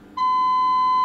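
A signal tracer with a built-in 1 kHz generator sounds its alarm during repair of a Drake TR7 receiver: one loud, steady, pure electronic beep begins after a short quiet moment and holds unbroken to the end.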